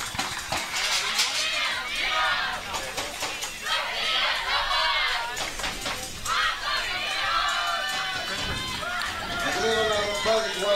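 A loud crowd of Russian fans cheering and shouting at a European youth sporting event in Patras, a continuous roaring wall of voices with swells, while a commentator talks over it.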